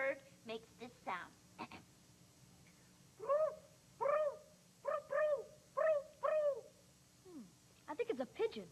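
A voice imitates a pigeon's cooing in a run of soft, rounded, repeated hoots, close and moderately quiet, framed by brief spoken words before and after.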